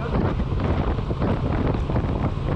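Loud, constant wind buffets the microphone while riding a Honda Transalp 750 motorcycle on a main road, a dense roaring rush like riding at speed, with no voices.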